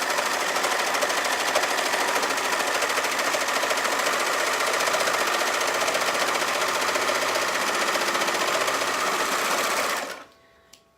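A serger sewing machine runs steadily at high speed, a close, continuous fast-stitching whir that carries on unbroken for about ten seconds before stopping abruptly.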